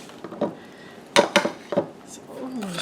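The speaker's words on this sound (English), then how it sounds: "Stir that up." Strawberry Jell-O mixture being stirred in a bowl, with a few sharp utensil clinks against the dish in a quick cluster, then light scraping and a soft voice at the end.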